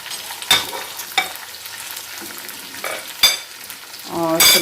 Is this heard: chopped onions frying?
yes